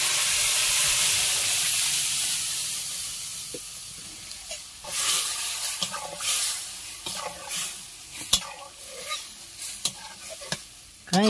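Dried red chillies and chopped onion sizzle in hot oil in a pan for an Odia curry, a steady frying hiss broken by scraping stirs and short clinks that grow busier in the second half, with no talking.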